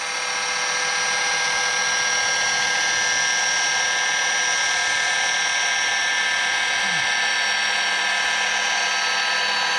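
A machine polisher runs with polishing paste in a steady high-pitched whine, loud and close, holding a constant tone with a brief dip in motor pitch near the end.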